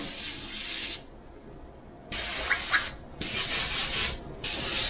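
Airbrush spraying thinned paint gives close, steady hissing bursts that start and stop several times, each lasting about a second, with quiet gaps between them and no voices.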